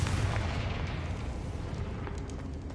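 A Confringo blasting spell in the video game Hogwarts Legacy goes off as a short, dense burst of booming, crackling explosion noise that fades out, with no voices.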